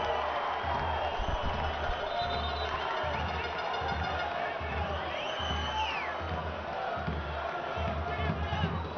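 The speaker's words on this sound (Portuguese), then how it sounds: "A galera aplaude porque a marcação do Romário foi implacável." A football stadium crowd at a third-division final claps and murmurs at a distance, a steady roar of applause with faint shouts rising through it.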